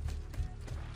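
Horse hooves galloping in the Assassin's Creed 2 video game, a steady run of muffled low thuds with a mechanical clatter, continuous throughout.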